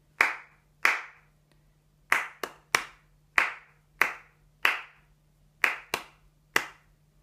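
A single person claps a rhythm in triple time for an aural rhythm test, about a dozen crisp, close claps in an uneven pattern with short silences between them, with a faint steady hum underneath.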